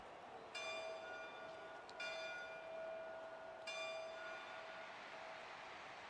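A bell rings in the Madden football game intro as Gronk strikes it, three bright metallic clangs a second or so apart that ring on and decay over a steady background hiss, no talking.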